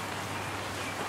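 Rain falls steadily, a dense, even patter throughout.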